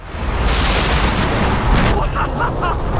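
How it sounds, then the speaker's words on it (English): An explosion in the Far Cry video game bursts into a loud, sustained booming roar that fills the whole moment, with faint crackling debris toward the end. "Did you see that explosion? What? Something exploded!"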